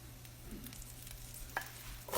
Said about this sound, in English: Now we're going to go ahead and add our sliced onions